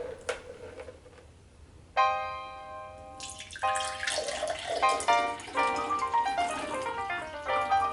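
Thick blended juice pours and glugs into a glass nearby, the pitch rising as it fills, with bubbling splashes toward the end.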